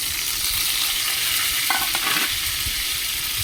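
Tomatoes sauté in a hot pan while cooking ginisang patola, a steady close sizzle and frying crackle with a brief stirring scrape in the middle.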